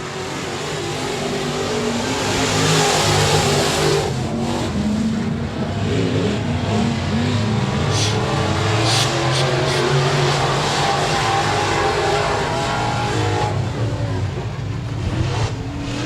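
Race cars roar around a dirt track speedway at Speedway of Texarkana during a Saturday night feature event, engines droning loudly and continuously with rising and falling revs and faint crowd or announcer sounds beneath.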